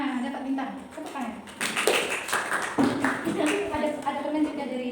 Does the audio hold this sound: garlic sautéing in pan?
no